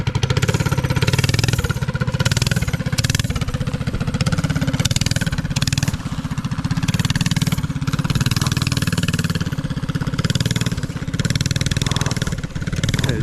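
A mini bike engine runs loud and close, a steady buzzing drone that holds for the whole stretch with small surges and dips as it zips along.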